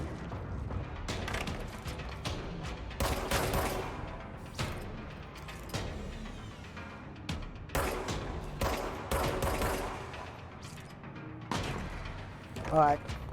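Sniper and other gunfire from the video game Control, bursts of shots and booming impacts recurring through the clip over dense game sound and music, with a person talking throughout.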